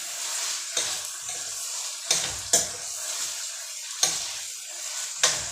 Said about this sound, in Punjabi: ਇੱਕ 2 ਮਿੰਟ ਲਈ ਆਪਾਂ ਪਿਆਜ਼ਾਂ ਨੂੰ ਪਕਾ ਲੈਨੇ